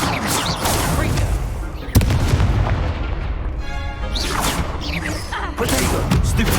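Confringo spell blasts in the Hogwarts Legacy video game arrive as loud booming explosive bursts, with a sharp crack near the middle, over continuous game noise.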